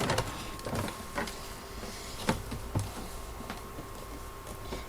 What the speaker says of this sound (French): je vais coudre ces trois côtés. Hop, on repasse sur la machine.